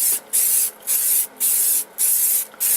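An aerosol can sprays paint onto an abstract background artwork in five short, evenly spaced hissing bursts with brief quiet gaps between them, close and fairly loud.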